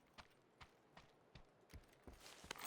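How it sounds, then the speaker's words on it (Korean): Faint, distant footsteps in a video game, a series of soft regular thuds that grow slightly louder and quicker near the end. "어쩐지 발소리가 잠깐 났다가 끊긴다 했더니"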